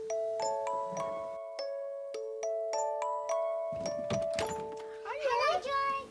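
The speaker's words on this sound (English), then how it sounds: "When the doorbell rings." A chiming doorbell rings in a home in a children's show, a series of clear ringing tones repeating over several seconds, then a voice speaks at the end.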